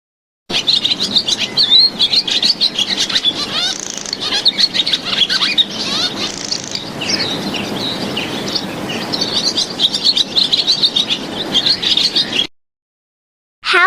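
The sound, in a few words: swallow calls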